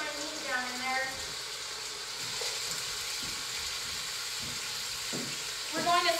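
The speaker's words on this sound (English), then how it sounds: "I've got the oil in the pan, you can hear it, it's pretty hot, and I'm going to put my meat down in there" Meat searing in hot oil in a slow cooker insert on the stove, a steady hiss of sizzling fat at moderate volume, with a few soft knocks and a brief voice in the background.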